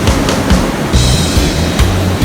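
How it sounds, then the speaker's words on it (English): Big ocean waves and strong surf at Harbor Cove in Ventura, where people fish for mullet, make a loud, steady roar with churning water that keeps going with no break. "these waves are just so big and there's just so much current"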